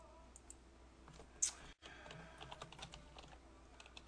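Soft keystrokes on a computer keyboard as an email is typed, faint irregular clicks and taps with a brief sharper knock, quiet room, no talking.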